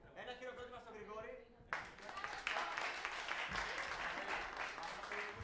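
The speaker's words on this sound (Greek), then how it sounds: "Ένα χειροκρότημα στον Γρηγόρη." Applause for a karaoke singer, a crowd clapping loudly and steadily after a short stretch of speech, with broadband clatter filling the rest of the clip.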